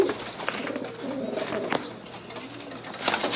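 Pigeons coo softly and repeatedly at close range, low throaty calls rising and falling over a faint background hiss, with a brief flutter near the end.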